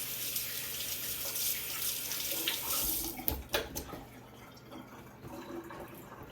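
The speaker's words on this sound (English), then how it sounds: "I gotta rinse my hands" Tap water runs steadily into a kitchen sink as hands are rinsed while baking ginger cookies, a broad continuous wash with splashy bursts in the middle as the hands move under the stream.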